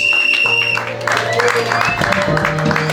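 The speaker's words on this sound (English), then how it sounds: "Clap for Jesus." Church seminar audience clapping for Jesus, a crowd's applause mixed with music tones and voices, loud and continuous across the moment.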